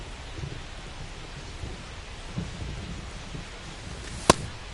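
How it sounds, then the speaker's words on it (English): Rain pours steadily in a baseball video game as low thunder rumbles underneath, with one sharp, loud crack near the end. "This rain is not letting up"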